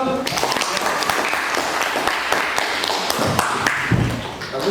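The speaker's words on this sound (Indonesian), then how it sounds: "Oke, tepuk tangan dulu." In a classroom guidance session, a group of students claps in a loose, uneven patter of sharp taps for several seconds, with voices talking over and between the claps.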